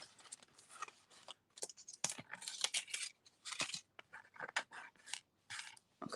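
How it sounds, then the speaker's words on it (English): Paper being die cut and handled for a gift box, with a quiet string of sharp snips, crinkles and rustles in irregular bursts, close and faint. "we're gonna die cut again"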